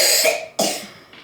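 A child coughs twice in quick succession close by, each cough a sharp, harsh burst, followed by a faint softer throat sound at the end.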